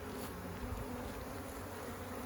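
Honeybees swarm around an open hive, producing a dense, steady buzzing drone that stays loud and close throughout, with no pauses.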